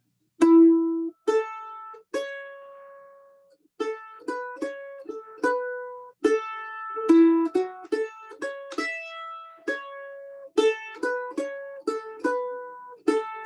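Mandolin picking the first line of a tune in a workshop setting, a clear run of bright plucked notes with ringing sustain, a few short pauses between phrases, played alone with no talk.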